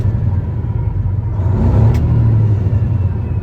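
A 2014 Peterbilt 389 glider kit day cab diesel truck runs close by with a steady, deep engine rumble that swells briefly as the revs rise smoothly, then settles, with no voices.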